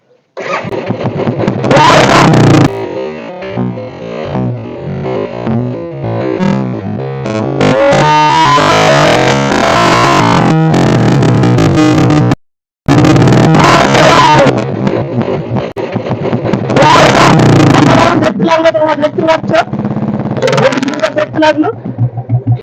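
A Royal Enfield Bullet motorcycle, with colored Holi powder placed inside it, starts up close and loud, then revs in repeated throaty bursts with a brief silent gap midway, while people talk over it.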